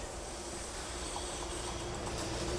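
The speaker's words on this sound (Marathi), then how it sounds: "ही रेल्वे आली बघ" A train rolls in near a village in Russia, a continuous heavy rumble with an airy hiss that holds steady throughout, with no voices.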